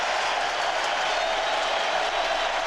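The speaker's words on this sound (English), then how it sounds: "The fans starting to get noisy again. This is a terrific crowd, isn't it?" Steady, dense roar of a large baseball crowd during the 2002 ALDS playoff game between the Athletics and Twins, continuous and loud with scattered cheering swells and no distinct voices.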